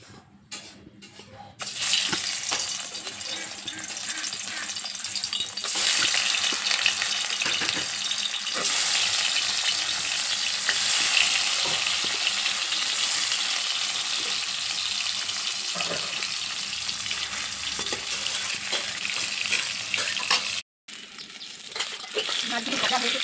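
Fish pieces rubbed with salt and turmeric sizzle in hot oil in a pan, giving a loud, steady hiss that lasts nearly the whole time, with a brief break near the end.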